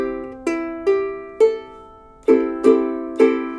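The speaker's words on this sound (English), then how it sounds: "So this bar 5 will sound like this." Ukulele playing bar 5 of a blues song, mixing plucked notes with down and up strums; seven sharp attacks ring out in an uneven rhythm, each chord sustaining and fading before the next, with no talking.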